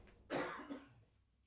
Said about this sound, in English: Otherwise, I'm going to keep coughing.